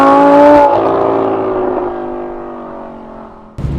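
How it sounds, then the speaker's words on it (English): Lamborghini Huracan V10 with a Supersprint exhaust and E-Venturi prototype intake, in Corsa mode with the valves open, gives a loud, close rev that peaks at the start and then falls away through a long, fading overrun before a short new burst at the end. "it's incredibly loud in here with the exhaust and the E-Venturi prototype intake"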